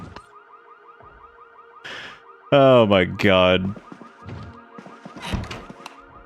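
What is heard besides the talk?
alarms going off in Project Zomboid video game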